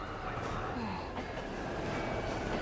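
A train runs steadily in the video game 13 Sentinels: Aegis Rim, a continuous rumbling rail drone with faint wheel squeal, set in 1985, with a voice speaking briefly over it.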